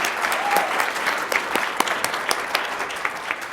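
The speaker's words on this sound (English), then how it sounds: "We're going to do some more of that clapping." A university audience claps steadily through the whole stretch at the 2021 State of the Campus event at University of Minnesota Rochester, a dense patter of many hands with a few sharper claps standing out.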